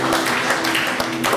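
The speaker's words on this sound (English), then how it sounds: "Shall we give the Lord a clap of praise?" A church congregation claps together in praise, a dense, steady wash of hand claps with a few stronger rhythmic beats and a faint sustained musical tone underneath.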